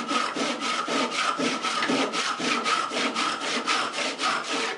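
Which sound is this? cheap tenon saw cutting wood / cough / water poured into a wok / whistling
cheap tenon saw cutting wood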